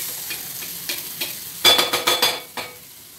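Onion being lightly sautéed in a pan for batata vada filling, soft sizzling under repeated spatula stirs and scrapes, with a burst of louder strokes midway.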